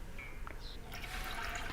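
Water is poured for making strawberry jelly, a faint splashing and trickling that grows fuller toward the end of the short stretch.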